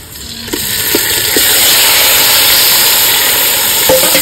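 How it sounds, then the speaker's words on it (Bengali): Marinated chicken hits a hot pan of lightly fried onions, setting off a steady, loud sizzle that swells after a first splash and holds, with a few soft clinks of stirring. "এবার দিয়ে দেবো ম্যারিনেট করে রাখা চিকেনটা"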